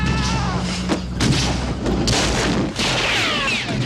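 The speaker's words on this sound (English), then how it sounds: "The actual Indiana Jones gunshot was a .30-30 Winchester rifle that was recorded." A recorded .30-30 Winchester rifle, used as the Indiana Jones gunshot, fires several booming reports with a long rumbling tail, spaced about a second apart against dense noise.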